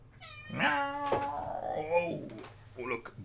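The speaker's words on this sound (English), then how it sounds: "Oh, look, bonus cat." A house cat meows close by, several drawn-out, wavering cries in quick succession, with faint thuds and room noise around them.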